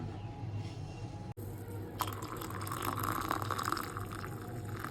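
Hot water is poured into a cup or glass from close by, a steady liquid trickle that starts after a brief cut and runs on to the end with no talk.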